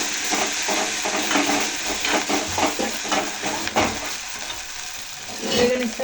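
Ginger fries in oil for egg pulusu, giving a constant close sizzling hiss with soft stirring scrapes running through it.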